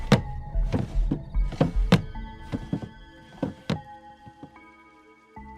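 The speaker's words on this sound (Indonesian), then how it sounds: "laci nomor 3 bergetar keras" Heavy metal morgue drawer in an old hospital's corpse room jolting and knocking violently, a burst of loud irregular thuds and rattles that slows into scattered knocks and fades, with no voices.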